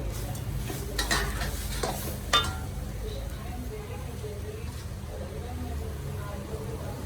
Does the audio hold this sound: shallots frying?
yes